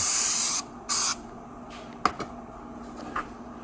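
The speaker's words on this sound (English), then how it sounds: "spray down a rag" Two short, loud bursts of brake cleaner aerosol hiss close by onto a rag, followed by a few faint clicks and handling sounds.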